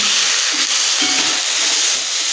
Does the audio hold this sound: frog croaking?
no